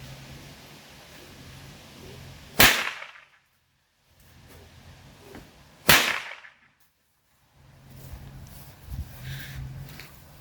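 Two sharp cowboy whip cracks about three seconds apart, each a loud snap standing out against quiet rustling background noise.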